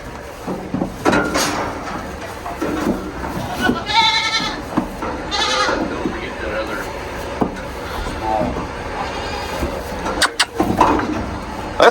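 Goats bleat in several loud, close cries while hooves thump and scuffle as they jump, with people talking and calling out over the animals throughout.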